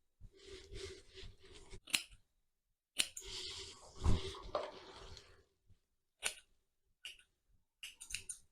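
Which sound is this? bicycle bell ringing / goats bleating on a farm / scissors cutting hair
scissors cutting hair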